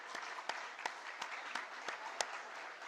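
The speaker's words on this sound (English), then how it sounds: "I want to give a big round of applause." An audience claps steadily at a school old students' association inaugural event, with a dense, even wash of applause and a few sharper individual claps standing out, no talking.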